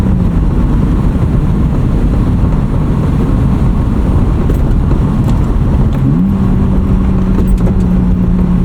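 A 1995 BMW E36 325i with a five-speed manual drives over a very bumpy road, heard as a loud, steady low rumble of road and cabin noise mixed with wind. A faint engine tone climbs slightly near the end, and no one speaks.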